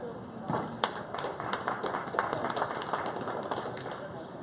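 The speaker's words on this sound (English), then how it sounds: "Give these whole two exhibitors a round of applause" Audience clapping for exhibitors at a 4-H fair dairy show, a steady patter of many hands at moderate distance lasting throughout, with a voice talking faintly underneath.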